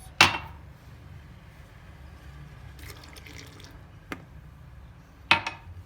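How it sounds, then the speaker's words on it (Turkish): Milk poured into whisked eggs and sugar for a soft cocoa cake batter: a short liquid splash at the start, then a quiet bowl with two brief clinks, close and fairly soft. "Şimdi sütümüzü ilave ediyoruz."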